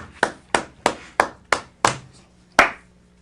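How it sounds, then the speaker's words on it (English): Seven crisp, isolated claps ring out, close and evenly spaced about a third of a second apart, with a slightly longer pause before the last one, in an otherwise quiet room with no talking. "Nice clap, guys. I really felt the love of those claps."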